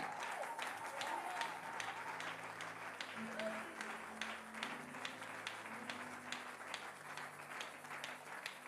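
A church congregation applauds during a French-language prayer service, a steady, dense wash of many hands clapping that carries on without letup, fairly distant and even in level.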